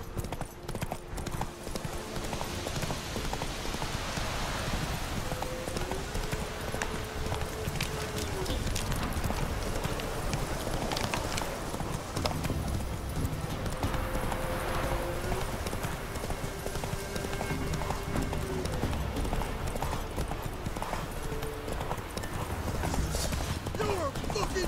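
Roach, the horse in The Witcher 3, gallops with continuous, rhythmic hoofbeats that stay close and even throughout, mixed with other game sounds.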